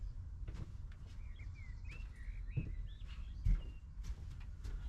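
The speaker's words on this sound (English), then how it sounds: "That's a blackbird. That's an actual blackbird." A blackbird sings outdoors in a series of clear, fluting phrases at moderate distance, with a few soft knocks and thumps of nearby handling noise mixed in.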